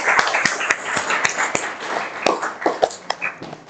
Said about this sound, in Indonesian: Bisa kita kasih aplaus untuk Mas Diki.